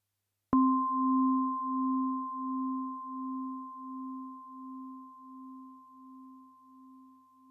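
A sustained metallic FM synthesizer tone from a DX7 emulation starts abruptly and holds steady, with a pure high partial over a lower pulsing one that slowly fades over several seconds.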